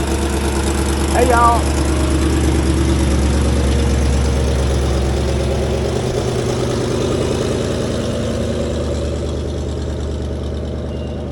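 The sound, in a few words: vintage car engine idling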